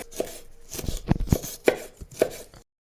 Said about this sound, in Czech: Oloupeme si kousek zázvoru a nasekáme si ho na jemno.